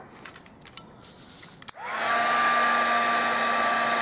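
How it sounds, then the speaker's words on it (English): A crafting heat tool switches on near a craft clothespin after a few small clicks and taps, then blows a steady loud whirring hum with a rising whine as it spins up. "Put the shimmer away and hit this with the heat tool."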